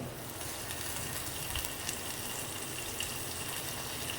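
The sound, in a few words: chopped onions sizzling as they are added to tempering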